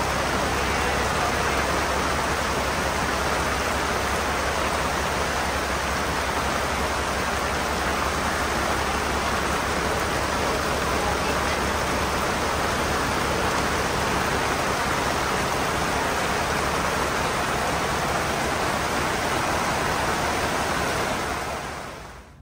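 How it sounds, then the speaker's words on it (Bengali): Heavy rain pours down during a boat trip near Tahirpur, a dense, steady roar of downpour close by that fills the whole stretch without letup before cutting off at the end. "ব্রেকফাস্ট শেষ করলাম, মুষলধারে বৃষ্টি পড়ছিল।"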